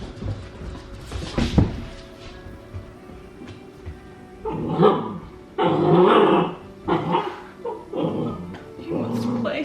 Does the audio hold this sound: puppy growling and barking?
yes